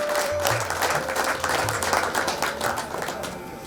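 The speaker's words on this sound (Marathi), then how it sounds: "जोरात टाळ्या आरशी कावडकर साठी" An audience at a transport depot staff gathering and award ceremony claps loudly and continuously for a few seconds, a dense burst of applause that fades slightly toward the end.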